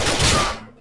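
A burst of gunfire in Grand Theft Auto IV, a single loud, sharp crack that rings out and fades within a second.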